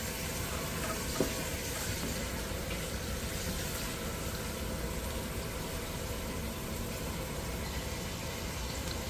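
Garlic frying in oil for crispy fried garlic to top noodle soup, a steady broadband sizzle with no pauses, close and fairly loud, holding an even level throughout.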